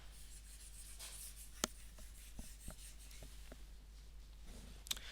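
Pen or marker strokes writing a math formula by hand, soft scratchy rubs and a few sharper taps spaced irregularly over a low steady background hum, close and quiet, with no voices.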